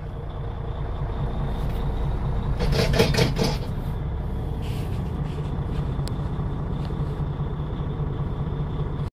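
A truck loaded with propane tanks, about 28,900 pounds, idles and pulls away with a steady low engine rumble and a sharp burst of air-brake hiss partway through, heard close with no talk.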